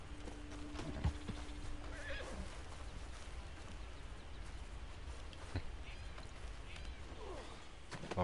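A horse neighs and its hooves clip-clop in a cartoon-style scene, with a whinny near the start and scattered hoof clops over a steady noisy background; speech-like sounds are present.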